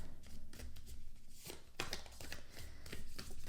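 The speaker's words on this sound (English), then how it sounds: "This is a hard deck to shuffle, so bear with me." Tarot card deck being shuffled by hand, a stiff deck giving a series of close, crisp riffling and slapping bursts in irregular rhythm, with no talking over it.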